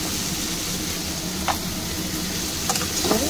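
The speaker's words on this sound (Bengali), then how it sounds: "একটু ভালো করে আমি আলুটা পেঁয়াজটা একসঙ্গে ভাজবো।" Potato and onion fry together in a pan, a steady soft sizzle with a few faint clinks of stirring.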